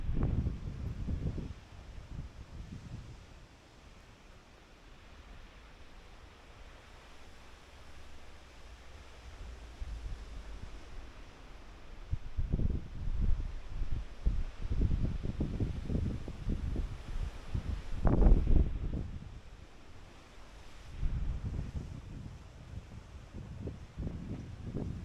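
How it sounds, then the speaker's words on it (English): Gusty wind roars outdoors, swelling and buffeting in strong bursts between quieter stretches, with a steady rushing noise underneath. "but it's getting quite windy."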